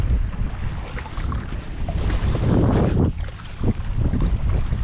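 Strong wind roars steadily across the microphone during a fast boat ride over choppy, whitecapped water, with hull slaps and water rush rising and falling throughout, loud and close, with no talking.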